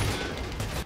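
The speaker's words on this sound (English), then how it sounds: "somebody tried to shoot me" Gunfire aimed at the player in Far Cry 5 comes as a fairly faint, brief burst of several rapid shots in a busy game soundscape.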